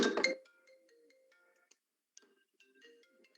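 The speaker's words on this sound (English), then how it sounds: "I've got a call coming in." An incoming-call ringtone on a phone, a brief burst of electronic tones that quickly falls to faint, sparse chimes and then near silence.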